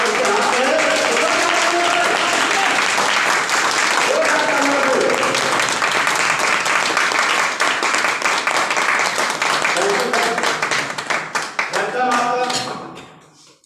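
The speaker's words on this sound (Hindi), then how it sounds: "जोरदार तालियां बजाइए सबके लिए।" Audience applause at a Hindi-language gathering fills the whole stretch as dense, continuous clapping, loud and close, tapering off at the end.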